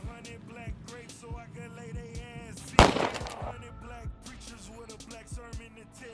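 A single sharp gunshot cracks out over an ongoing dramatic orchestral music score, loud and close, then the music carries on.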